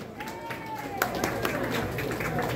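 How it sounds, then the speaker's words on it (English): An audience at a live event applauds in a steady, moderate patter of many hands, with crowd murmur and some voices mixed in. "Let's give a nice round of applause with the Star Spangled Banner."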